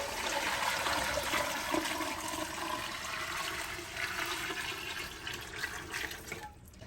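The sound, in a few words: water being poured into canning jars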